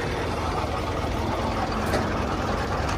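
A tow truck's heavy engine idles steadily nearby, a constant low rumble with no talking over it.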